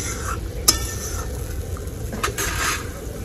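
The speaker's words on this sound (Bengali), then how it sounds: "ঝোলের মধ্যে সব মাছগুলো আমি ছেড়ে দিব এক এক করে" Pieces of pangas fish slipping one by one into a pot of bubbling curry gravy, with a soft steady simmer and a few faint clinks of a utensil against the pan.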